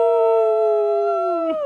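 A man imitates a wolf's howl with his voice, a single sustained, loud, tonal cry held steady and sliding slightly downward before breaking off at the end.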